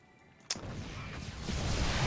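Battlecruisers firing in the StarCraft II video game: a sharp blast followed by a dense, continuous roar of weapon fire that swells louder toward the end, with no talking.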